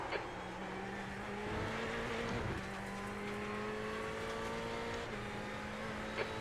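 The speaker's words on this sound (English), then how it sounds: "There's a faster car approaching." Ferrari 488 GTE race car engine in the iRacing sim at Sebring, a steady sustained drone with rising gear-pitch lines as a faster car approaches and passes, continuous and fairly loud with no talk.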